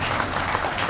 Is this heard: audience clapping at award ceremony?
yes